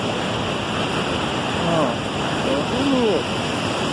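Rushing river water at the Barra Seca river waterfall, a loud steady broadband roar filling the whole clip while people talk briefly over it.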